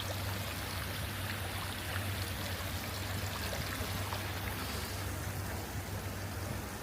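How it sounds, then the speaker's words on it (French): A large decorative fountain in Guoco Changfeng City splashes and pours in a steady, dense rush of falling water, close and continuous with no voices. "Et une magnifique fontaine."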